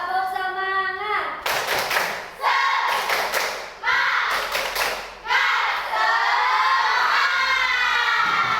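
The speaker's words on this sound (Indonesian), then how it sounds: "Tepuk semangat." A classroom group performs a rhythmic spirit clap (tepuk semangat), sharp clusters of claps and thumps alternating with loud chanted voices in a repeating pattern, close and energetic.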